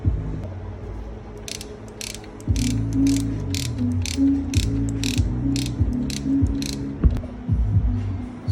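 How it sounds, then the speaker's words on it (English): A ratcheting torque wrench tightens an 8mm bolt during an electric bike motor installation, giving a loud, close run of rapid rhythmic clicks in repeated strokes with short pauses between them. "using a torque wrench"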